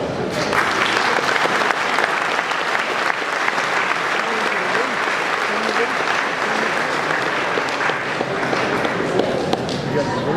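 An audience at a LaSalle Club awards banquet for Cadillac cars breaks into sustained applause. The clapping stays steady and fairly loud the whole way through, with faint voices mixed in under it.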